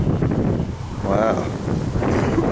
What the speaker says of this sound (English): This wind is really blowing.